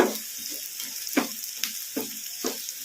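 Curry leaves dropped into hot oil for a spicy Andhra eggplant dish, sizzling and crackling in a steady hiss, with several soft stirring knocks spaced about half a second apart, close and moderately loud.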